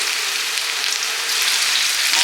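Garlic and curry leaves sizzle and crackle steadily in hot oil, a dense, even frying hiss that stays close and unbroken throughout with no talking.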